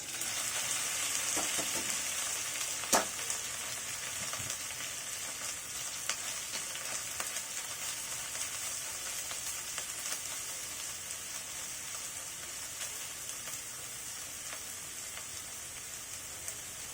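Washed dried kachki fish fries in a hot pan with a steady, even sizzle like light rain, plus a sharp clink early on and scattered faint stirring taps.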